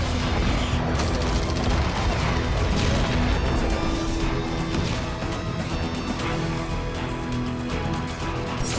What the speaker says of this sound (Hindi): खान यूनिस के रिहायशी इलाके बमबारी से थर्रा उठे।